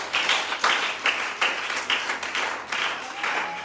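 A church congregation applauding, with loud, sustained clapping from many hands that swells in repeated pulses.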